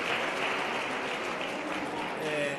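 An audience claps at a parliamentary portfolio committee hearing on agriculture, land reform and rural development, and the dense, sustained applause fills the room throughout.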